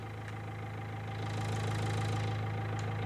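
Continuous broadband car engine hum run through an occlusion filter in Wwise and Unreal Engine, steady low drone whose upper brightness swells in midway as the filter sweeps open, with faint clicks at either end.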